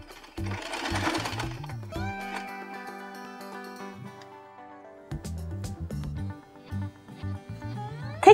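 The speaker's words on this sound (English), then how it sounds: "Stitch the end here to secure the elastic band." A sewing machine stitches across the end of a cotton fabric headband to secure the elastic, a close, rapid mechanical chatter in short bursts with pauses between runs, heard alone.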